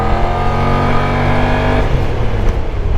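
Kymco AK550 maxi scooter engine on a city ride, a steady loud drone with a strong humming tone that holds, then drops away after about two seconds into rougher, broadband rumble and wind.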